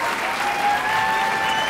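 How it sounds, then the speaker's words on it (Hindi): An audience claps warmly for a couple in a dubbed Turkish drama, a dense, steady wash of applause that stays even and close for the whole moment, with no voices over it. "तो आइए इन दोनों के लिए जोरदार तालियां बजाते हैं"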